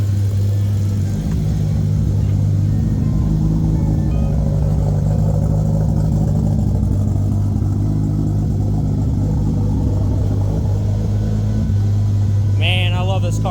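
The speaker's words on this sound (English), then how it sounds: "The only thing that we can hear now is slight valve noise, and then we have the" A Nissan 300ZX with a big-turbo 2JZ engine idles with a steady low drone, faint fast valve and injector ticking layered on top, continuous and close.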